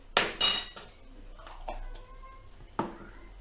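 A spoon stirs a homemade soap mixture with baking soda in a bowl, giving a few sharp clinks against the bowl and soft scraping in between, quiet and close, with no talking.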